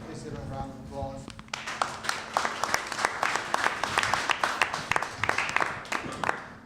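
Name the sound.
round of applause for the homeowners coalition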